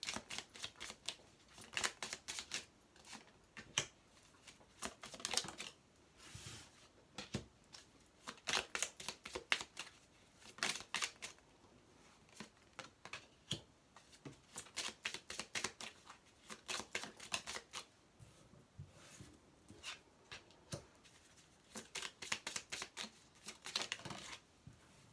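Tarot cards are shuffled and drawn, quiet repeated riffling bursts and soft flicks in uneven runs through a long stretch, near and faint, with no voice.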